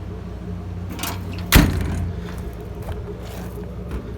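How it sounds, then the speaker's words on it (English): A utility compartment door on a 2013 Ford F-450 service crane truck shuts with a single solid metallic thud, preceded by a faint scrape and followed by quiet outdoor background. "these doors open and close and have a locking mechanism"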